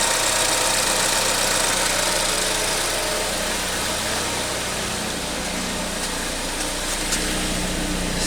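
A Ford Escape engine idles steadily with a newly fitted exhaust muffler, a close, even, low rumbling hum that stays constant throughout with no voices.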